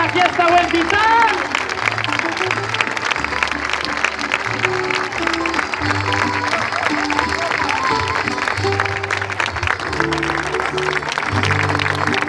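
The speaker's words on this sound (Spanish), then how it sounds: "¡Fortísimo el aplauso que se venga a la fiesta" Party audience clapping in sustained applause, a dense steady patter lasting several seconds, with music playing and a voice speaking over it.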